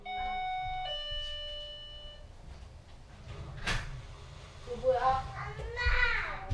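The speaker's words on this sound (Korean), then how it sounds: "이때 들리는 초인종 소리." A two-tone electronic doorbell chime rings clearly at the start, followed by rustling and children's voices chattering nearby.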